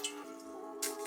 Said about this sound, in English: I'm gonna pour the 50 ml in this bowl here